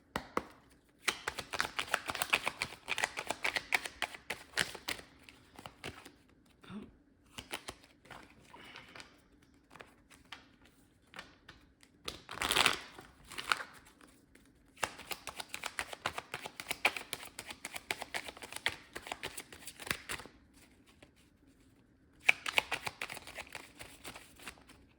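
Tarot cards shuffled during a card reading, heard as repeated bursts of quick, crisp riffling and tapping clicks separated by short pauses, close and fairly quiet, with no talking.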